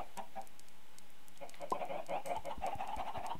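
Chicken in the video game Minecraft clucking repeatedly in quick, uneven bursts, moderately loud and close, over a soft background of faint clicks and steps.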